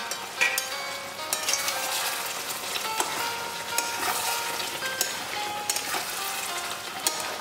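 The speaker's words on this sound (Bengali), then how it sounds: "আমি এখন এই আলুগুলো দিয়ে একটু ভালোভাবে কষিয়ে নেব।" Mutton and potatoes stir-fry in hot oil in a pan, a steady close sizzle with scattered crackles and the occasional scrape of stirring, with no voices.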